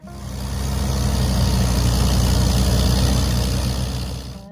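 Allis-Chalmers D14 tractor engine running steadily with a loud, low rumbling drone that swells in and holds for a few seconds, with no talk.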